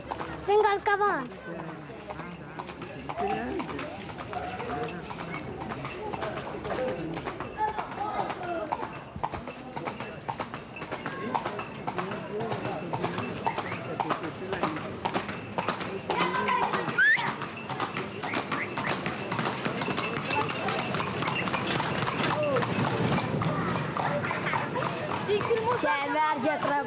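Horse hooves clip-clop steadily and close, with rapid irregular hoofbeats running throughout and people talking over them.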